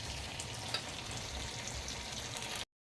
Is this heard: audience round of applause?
no